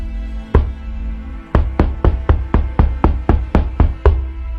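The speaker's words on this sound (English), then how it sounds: "It raised one bony hand and knocked on the wall behind it. Tap, tap, tap." Slow, even knocks on a wall, about eleven sharp raps after an opening strike, each close and distinct against a quiet background with no talk.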